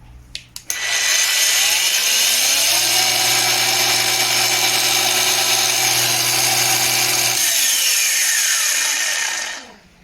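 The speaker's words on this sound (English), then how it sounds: "it makes less noise than the socket powered one that I have" An Einhell TE-AG 18/115 cordless angle grinder starts after a few clicks, spins up to a steady loud high-pitched whine for several seconds, then winds down, close and with no talking.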